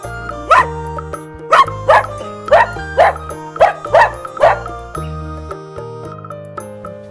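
Seven sharp dog barks in a steady rhythm over a bouncy musical backing, then the music carries on alone.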